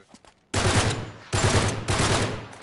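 Gunfire in the video game Uncharted 3 comes in three dense, loud bursts of rapid automatic shots, each lasting under a second, separated by short gaps, after a quiet start.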